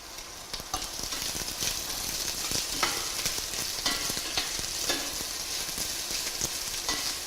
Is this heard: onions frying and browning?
yes